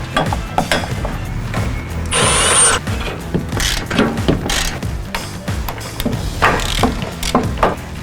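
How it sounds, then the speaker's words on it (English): A power drill or driver backs screws out of a body panel on a 2020-2024 Polaris RZR Pro XP, giving short whirring bursts and ratcheting mechanical clicks close up, with no talk over it. "Next, you're going to remove these 3 screws and the push-in rivet back here."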